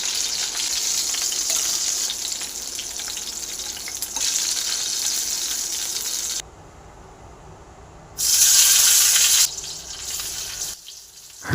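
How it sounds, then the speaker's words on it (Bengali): Okra frying in a pan, a continuous close sizzle with stirring scrapes, interrupted by a brief quiet gap and then a short burst of running tap water, no talking. "ঢেঁড়স ভাজা করছি"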